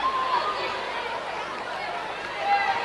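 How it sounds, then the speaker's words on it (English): Crowd noise at a Castleford Tigers versus Wigan Warriors women's rugby league semi-final, a steady broad roar of cheering after a big carry that swells again toward the end. "that got the crowd hyped up there"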